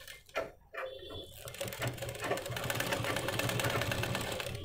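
A sewing machine runs steadily while stitching an umbrella dress, a few brief clicks and stops at the start giving way to a continuous, close mechanical whir.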